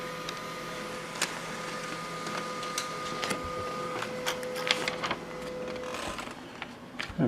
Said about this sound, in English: Our Canon laser printer.